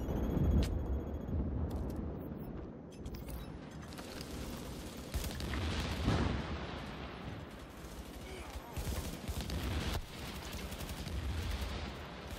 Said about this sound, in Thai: ระเบิดจริงๆเขาปาระเบิดจริงๆว่ะ